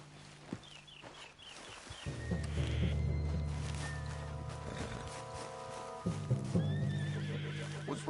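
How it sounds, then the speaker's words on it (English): A horse neighs loudly, whinnying twice, while hooves clip-clop steadily nearby amid game sounds in Red Dead Redemption 2. "What's wrong with this horse?"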